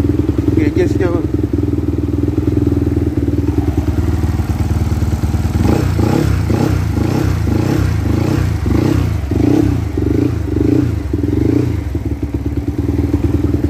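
A finished Yamaha VF3i-based motorcycle with a 68 bore engine idles loudly nearby, with a steady low rumble and pulsing, uneven throb, then rhythmic mechanical clatter later on.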